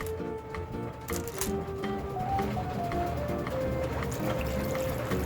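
Plain tap water pours into a rock tumbling barrel, a continuous splashing fill whose tone rises gradually as the container fills, heard close and steady.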